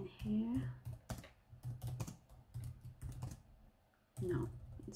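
Typing on a computer keyboard, quick clusters of key clicks with short gaps, close and moderate, under intermittent speech from a nearby person.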